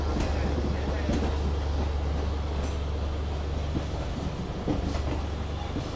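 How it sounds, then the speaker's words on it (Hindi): ALCO diesel locomotive train at Jamalpur, India, rumbling steadily with a deep continuous low drone and faint clickety-clack of rail cars, loud and close throughout. "ये दोस्तों आप देख सकते हैं यहाँ पे जमालपुर का एल्को लोकोमोटिव"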